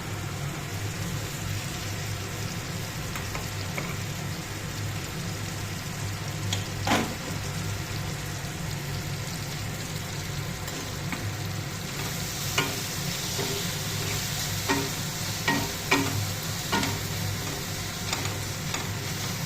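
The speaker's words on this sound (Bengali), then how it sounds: "এবার ভালোভাবে কষিয়ে নিতে হবে পোস্ত, টমেটো, পেঁয়াজ ভালোভাবে নাড়াচাড়া করে" Poppy seed paste frying with tomato and onion in oil, a steady low sizzle with occasional spoon scrapes and stirs, mostly in the second half, heard close without any voices.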